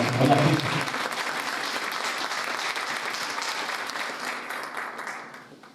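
Applause from an audience at a public talk on local historical memory, a broad, continuous patter of clapping that starts strong, stays steady, then gradually thins out and fades.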